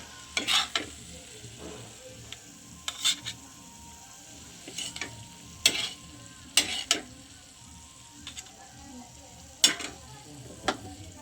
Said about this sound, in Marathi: गरम भाकरीच गरम करायला घेतलेल्या आहेत